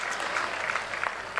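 Audience applause at a stage gathering of saints, mahants, journalists and devotees, a steady wash of clapping with a few sharper peaks, moderately loud and continuous throughout.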